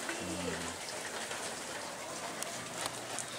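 Rain falls steadily on surfaces around a house, a constant hiss with scattered drops and a faint low tone near the start.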